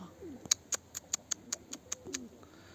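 Pigeons cooing softly, with a quick, even run of sharp little ticks over faint background noise.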